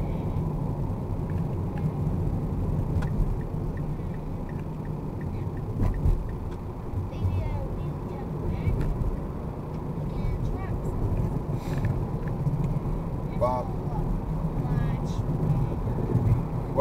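A car cruises along a highway with a continuous low road rumble and some wind buffeting throughout, interrupted by a few faint knocks and clicks.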